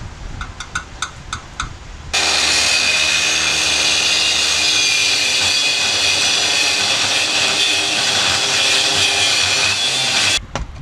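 A power tool cuts steel during a leaf spring relocation on a Mopar A-body car. A few brief taps lead into about eight seconds of loud, steady, harsh cutting noise that stops abruptly.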